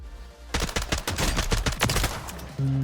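Rapid bursts of tap-fired gunshots from a weapon in Warzone, closely spaced sharp cracks for about two seconds, loud and near, then a brief tonal beep at the end.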